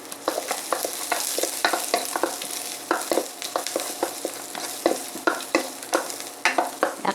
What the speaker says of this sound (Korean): 약간 타지 않을 정도로 마늘을 이렇게 볶아줘요